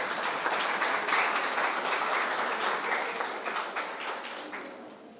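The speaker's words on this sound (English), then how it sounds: "Let's give them a round of applause" An audience at a farmers' cooperative registration ceremony claps in a sustained round of applause, moderately soft and fairly distant, gradually thinning out toward the end.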